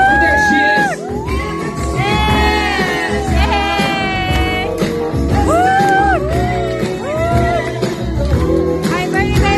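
A crowd cheering and whooping at a debut party in a hall, loud overlapping shouts and rising whoops over music, dense and continuous.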